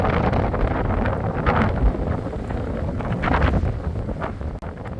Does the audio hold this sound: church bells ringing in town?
no